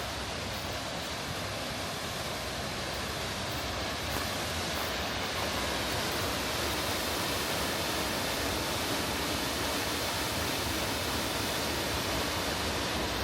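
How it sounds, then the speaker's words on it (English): A waterfall pours steadily among the ruins of Great Falls Mill, making a loud, constant broadband rush with no voices. "All the ruins, waterfall over here."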